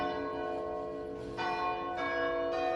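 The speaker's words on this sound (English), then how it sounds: "Look at the church bells, isn't that lovely?" Church bells of St Mary's ringing out over a town, a sustained metallic peal with fresh strikes layering every half second or so, heard from a moderate distance and fairly soft.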